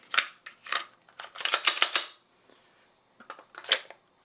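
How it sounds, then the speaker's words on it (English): Metal parts of a Glock 20 Gen 5 10mm pistol being fitted back together, with the barrel, recoil spring and guide rod going in and the slide going onto the frame. Sharp, close clicks and snaps come in quick bursts, then a pause and a few more. "So just return our barrel and then get our recoil spring and guide rod. Put it back over your frame."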